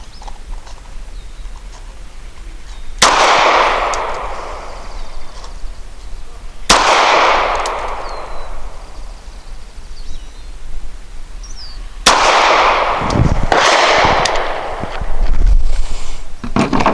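A Springfield XDe 9mm pistol firing S&B Subsonic 150 grain ammunition gives several sharp, loud shots spaced seconds apart outdoors, each followed by a brief echoing decay.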